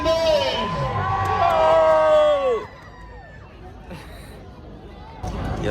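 A crowd cheers and whoops loudly as actor Kiccha Sudeep arrives at a CCL cricket event, a roaring swell of shouting voices that drops away midway, then returns to a lower babble and rises again at the end.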